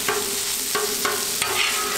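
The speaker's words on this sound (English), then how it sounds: "See how I get the spatulas down on top there? Almost like a press, just to help it cook a little faster." Burrito sizzling on a Blackstone griddle while spatulas press down on top, a steady loud fry with a few scraping clicks of the metal spatulas, no voices.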